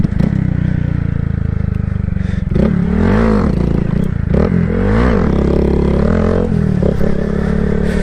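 A motorcycle ridden around town, its engine droning low and close with rising revs and shifts through the gears, slight clatter and wind under the ride, no talking.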